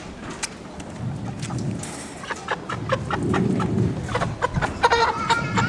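Chickens in a coop before processing make soft clucks and short calls near the microphone, with a steady murmur of low background sound.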